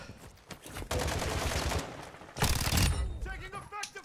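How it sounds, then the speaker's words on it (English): Bursts of rapid gunfire in the video game Call of Duty DMZ, two loud sustained volleys separated by a short gap, with a voice talking over and between them. "Taking effective fire."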